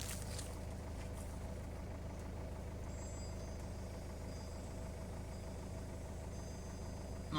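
Steady, droning hum of the air suspension compressor on a Citroen C4 Grand Picasso with a suspension failure, running continuously and fairly close, with a low mechanical drone throughout and no voices.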